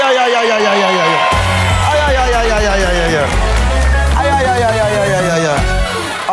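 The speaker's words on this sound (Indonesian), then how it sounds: "Tepuk tangan untuk mereka" A studio audience on the Indonesian game show Family 100 cheers and whoops loudly without pause, a dense crowd roar with shouting voices layered over a low rumbling background.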